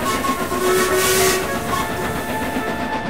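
A steam train whistle sounds in sustained, wavering tones over the steady rumble and hiss of a moving train.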